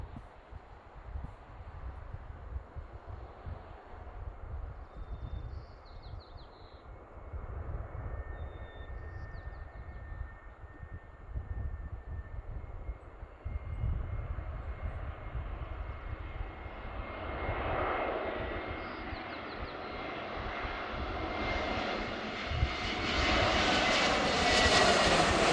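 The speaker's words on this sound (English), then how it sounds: "From Orlando, it's an Airbus A321 Delta." A Delta Airbus A321 jet arriving from Orlando approaches from afar, its engine roar building steadily from faint to loud over about twenty-five seconds, with light breeze and no talking.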